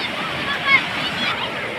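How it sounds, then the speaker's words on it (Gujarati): Broad wash of sea waves surging and breaking at a village fair beach where children bathe, a constant roar with a slight swell midway, fairly loud and close, with no voices. "મોટા મોજા ઉછળે છે સમુદ્રની લહેરું"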